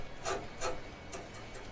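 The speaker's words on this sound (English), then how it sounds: "I'm going to rough up the fuselage." A Scotch-Brite pad scuffs an aircraft fuselage in a few short, dry rubbing strokes, close and fairly quiet, separated by brief pauses.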